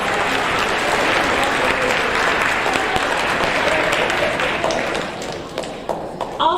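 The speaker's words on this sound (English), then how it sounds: "let's give all of the student athletes a round of applause" Steady audience applause fills an eighth-grade awards ceremony for student athletes, dense clapping sustained throughout and thinning slightly toward the end.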